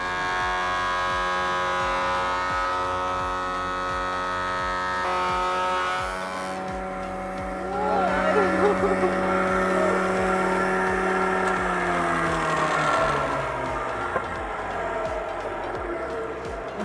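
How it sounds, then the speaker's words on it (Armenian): A woodworking machine tool is switched on and runs with a steady, loud motor whine rich in harmonics. The pitch shifts partway through as the load changes, then settles and slowly winds down near the end. "Հիմա միացնում ենք հաստոցը։"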